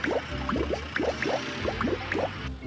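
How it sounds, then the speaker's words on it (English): Quick, regular drips of liquid fall from a tanker truck one after another, about four per second, light and close. "there's something dripping from his tanker."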